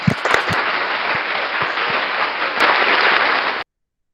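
Audience applause greets a speaker at an ICT and internet policy forum, a steady, loud wash of many people clapping that runs for over three seconds and then cuts off abruptly into silence.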